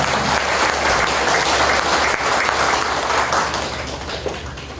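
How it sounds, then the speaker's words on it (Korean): Sustained, loud audience applause fills a Buddhist dharma ceremony hall, steady dense clapping throughout with no talk over it, tapering slightly near the end. "여러분들 큰 박수로 모셔드립니다."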